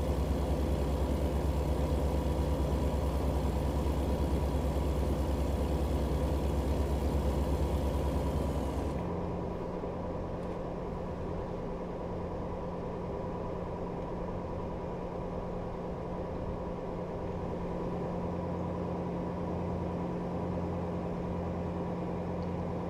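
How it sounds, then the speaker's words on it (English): A truck engine idles in the American Truck Simulator video game, a steady low rumbling hum that drops to a quieter, smoother drone partway through and holds evenly to the end. "I reckon they fixed the engine sounds."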